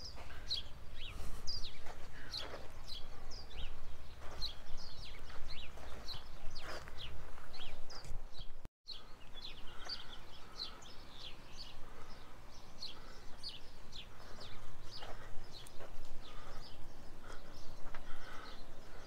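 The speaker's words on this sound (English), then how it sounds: "I hear a lot of birds and things." Many small birds chirp and call in scattered bursts throughout in the Tucson desert, fairly distant, over a soft outdoor background hum.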